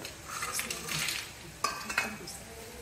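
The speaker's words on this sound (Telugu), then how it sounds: "ఇవ్వండి ఇలా వేగాలి, చాలా త్వరగా ఎగిపోతాయండి ఇవి." Chips fry in hot oil with a close bubbling sizzle, broken by sharp metallic clinks and scrapes of a utensil stirring in the pan.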